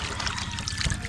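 Water runs from a tap in a home kitchen as a steady, close trickling stream with no pauses.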